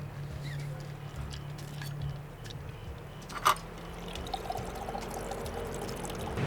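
Blue margarita poured from a cocktail shaker over ice outdoors at a campsite, a steady, soft liquid pour under low background rumble, with a brief clink partway through.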